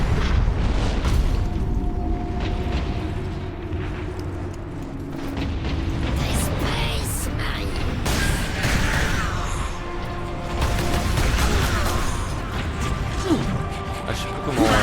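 Gunfire and explosions rumble through a Warhammer 40,000: Space Marine battle against orks, loud booms and mechanical crashes layered densely with someone talking over the action throughout.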